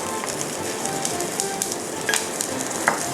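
Dim sum sauce is stirred in a pot to dissolve the seasoning, with a continuous close sizzling bubble and small scraping taps from the utensil.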